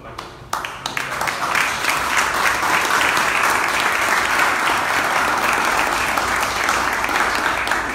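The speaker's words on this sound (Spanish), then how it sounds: "pues también un fuerte aplauso" Applause at a ceremony where elected local commissioners receive their certificates: a few separate claps at first, then a crowd breaking into loud, sustained clapping that holds steady to the end.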